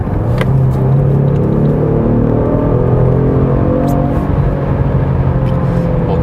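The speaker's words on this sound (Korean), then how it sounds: "이 드라이브 모드에 따라서 그 엔진 사운드가 커지고 음색도 좀 굵게 변하죠." A 2022 Genesis G70 3.3T Sport AWD with its virtual engine sound set to Sport Plus gives a deep, steady, loud rumble from inside the cabin, holding a constant drone while the car drives at speed.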